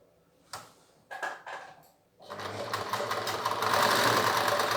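A sewing machine stitches the ends of a trouser waistband closed, starting with a few short bursts and then running in a steady, loud, continuous whir for the rest of the clip.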